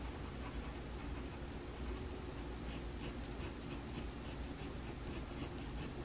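Steady pencil scratching on paper as veins are drawn onto a Parasaurolophus head sketch, continuous close strokes with a faint low hum beneath.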